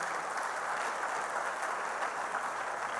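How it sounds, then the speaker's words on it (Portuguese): A church congregation applauds steadily, an even wash of many hands clapping at moderate distance with no break. "Aplauda Jesus, a palavra de Deus."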